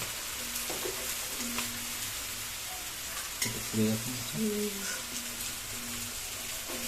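Rohu fish wrapped in cabbage leaf cooking gently in a pan, giving a steady soft sizzle and frying crackle with occasional stirring scrapes, moderately faint throughout.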